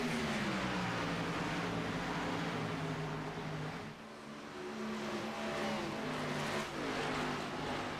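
An Xfinity Series race car at Atlanta in iRacing, its engine droning loud and close as it accelerates, the pitch climbing and falling through gear changes with a brief dip midway, under steady race commentary.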